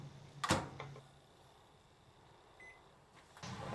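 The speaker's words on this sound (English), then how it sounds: "slightly open the noodle packets and microwave them about a minute." A microwave oven softening slightly opened packets of yakisoba noodles: a door thump near the start, then a low steady hum with a brief beep, ending in a rising mechanical rush.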